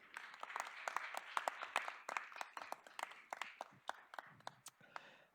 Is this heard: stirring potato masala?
no